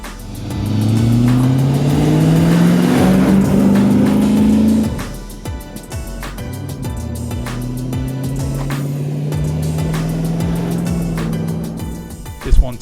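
Deep rumbling Rover 4.6-litre V8 engine in a custom Land Rover Defender 110 with five-speed manual, revving up and down through gear changes, loud and close, settling into a steady drone before a final blip.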